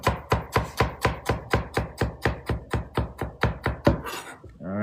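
A knife chops herbs on a cutting board in quick, steady strokes, about sixteen sharp close thunks at an even pace, then a pause and a softer rustle at the end.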